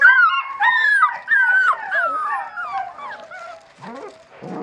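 A litter of 37-day-old West Siberian Laika puppies whimper, yip and howl in close, overlapping high-pitched cries that rise and fall continuously, with a brief rustle near the end.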